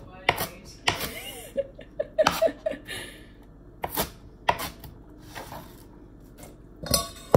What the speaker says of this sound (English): I finished cutting up the cabbage